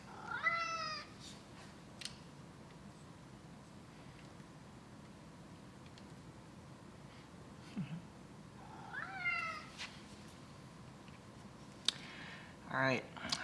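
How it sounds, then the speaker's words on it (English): A cat meows several times, drawn-out rising and falling cries spaced across the stretch, fairly faint in a quiet room, with a few clicks and light background noise. "And the cat still wants to play."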